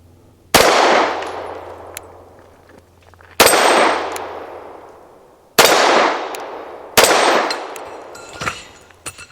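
Four loud, sharp pistol shots from a Bersa M2XI firing Winchester 115 grain rounds at a target, each crack followed by a long ringing decay, spaced a few seconds apart with a faint clink near the end.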